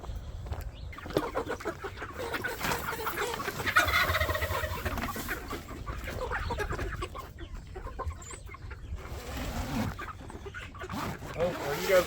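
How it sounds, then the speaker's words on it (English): Chickens on a farm clucking and calling nearby in an irregular chorus, with a person talking over them. "Deaky, we gotta go check on the chickens."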